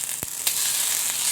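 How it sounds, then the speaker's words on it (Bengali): Dried fish (shutki) fries in a little oil in a pan, giving a steady close hiss and sizzle with a couple of brief pops or scrapes near the start. "এখন আমি শুটকিটাকে ভেজে নেব।"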